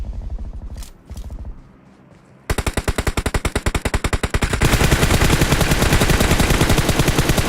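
Rapid automatic rifle fire in PUBG Mobile, loud and close, comes after a few scattered shots, then runs as a long unbroken burst that thickens into a denser, overlapping barrage.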